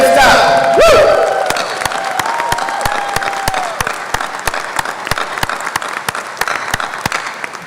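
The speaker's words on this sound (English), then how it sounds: "please join me in giving them a big round of applause for all our faculty and staff" Loud audience applause with scattered cheering and whoops rings out at a high school graduation ceremony for faculty and staff, a dense steady wash of clapping that thins slightly as it continues, with a brief voice near the start.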